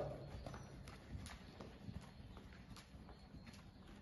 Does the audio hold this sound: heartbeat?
no